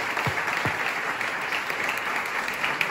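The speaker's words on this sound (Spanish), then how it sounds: "Un aplauso muy fuerte para Roberto, para Vane" A dense wash of applause from a large audience at a board game festival gala show in Barcelona, steady and loud throughout with no talking over it.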